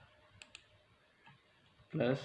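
A computer keyboard clicks as an equation is typed in MS Word, two sharp keystrokes followed by a softer tap, quiet and close, before a burst of speech cuts in at the end.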